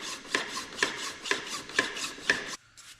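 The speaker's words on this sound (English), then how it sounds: "aluminum tends to plug up the file, so we only get a little bit" A hand file scrapes aluminum in five steady, evenly spaced rasping strokes, close and fairly loud, and then it stops.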